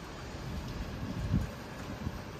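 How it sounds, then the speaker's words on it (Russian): Strong outdoor wind on a mild day, a steady low rumble and buffeting against the microphone with no other distinct sounds. "Обещали сильные ветра. Вот они наступили."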